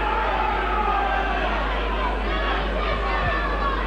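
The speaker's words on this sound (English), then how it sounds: "Well, you can hear the boos." A rugby league stadium crowd at Huddersfield versus Catalans produces a steady, sustained roar of booing and jeering, with a commentator talking over it.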